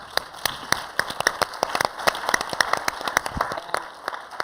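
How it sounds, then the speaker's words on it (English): An audience claps for three arts-grant program officers. The applause is lively and close, with sharp individual claps standing out over a continuous patter that holds for several seconds. "I want a round of applause for all three."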